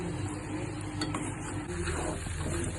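Chicken pickle mixture with half a teaspoon of asafoetida powder being stirred in a pan, a steady close scraping and mixing with faint sizzle throughout.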